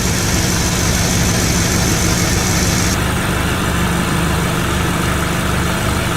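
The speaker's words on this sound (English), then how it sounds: "We have the engine running here. It's nice and steady, it's not misfiring." A car engine idles steadily after a known good ignition coil replaced a misfiring one, with a smooth, even hum and no stumbles, loud and continuous throughout.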